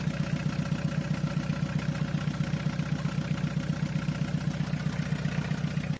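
A car engine runs at a steady, held speed with an even, rapid pulsing throb, loud and close, with no talk over it before it cuts off abruptly at the end.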